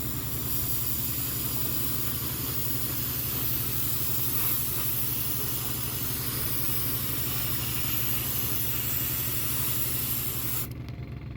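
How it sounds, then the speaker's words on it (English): Aerosol silver spray paint hisses continuously at close range onto the underside of a 1/24 scale Fujimi Ferrari 330 P4 model for about ten seconds, with a low steady hum underneath, then cuts off abruptly. "so we're going to spray this underside silver"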